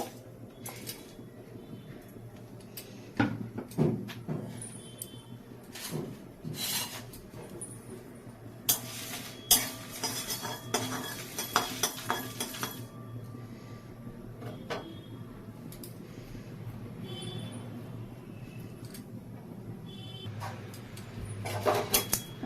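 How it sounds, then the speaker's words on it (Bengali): Cumin, fennel, fenugreek and dried chillies are dry-roasted in a pan, giving scattered scraping and clinking from stirring and occasional sharp knocks, with no sizzle and no talk. "আমি এইগুলো দিয়ে একটু শুকনোভাবে ভেজে নেব"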